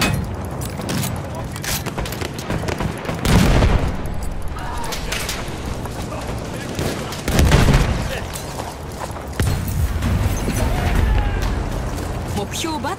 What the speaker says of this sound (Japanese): グレネードを投げるぞ、注意しろ。